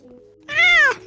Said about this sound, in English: I was trying to get him to meow, but I wasn't expecting it quite that loud.